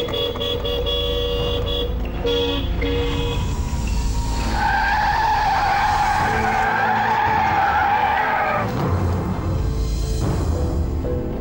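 Car tires screech in a long, loud, sustained skid with a strained tonal squeal rising in the middle, over engine and road rumble, before fading out toward the end.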